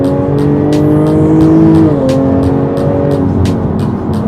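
Jaguar F-Type engine under full throttle, a loud rising snarl with a brief dip at a gear change, then climbing again, punctuated by sharp rhythmic ticks.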